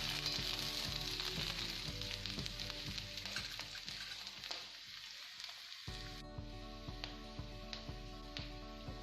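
Garlic and cabbage fry in a pan for Bhutani masala momos: a steady, fairly faint sizzle with regular scraping stirs throughout.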